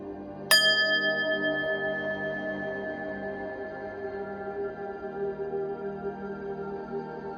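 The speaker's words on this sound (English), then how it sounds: "let's ring the bell, clear your energy" A single bright bell strike rings out clearly, its clear tone sustaining and slowly decaying for several seconds in a quiet room with no talking.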